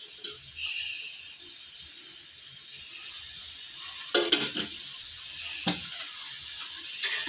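Gongura chicken frying in a little oil in a pan on a low flame gives off a steady, bright sizzle, broken by a few louder scraping stirs of the utensil against the pan, heard close with no talk.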